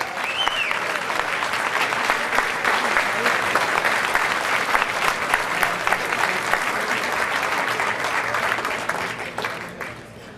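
An audience at an awards ceremony for coaches applauds the winners on stage, with steady dense clapping that holds for about ten seconds before thinning slightly. A whoop rises near the start, and crowd murmur runs underneath.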